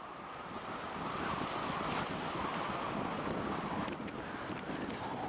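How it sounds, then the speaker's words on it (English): A slow-moving barge on a river in Arlington, Oregon, heard as a broad continuous rumble mixed with wind buffeting the microphone and water noise, steady and fairly loud with no talking. "so that's a slow moving barge"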